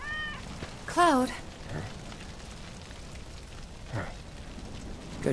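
A cat in the game Final Fantasy 7 Remake gives one clear, fairly loud meow with a rising and falling pitch, followed by soft rain-like pattering and a few quieter bursts in the background.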